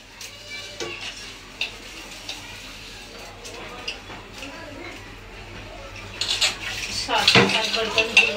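Dishes, pots and pans clatter and clink in a home kitchen while halwa cooks, with light scattered knocks early and a louder run of scraping and clanking near the end, under background voices.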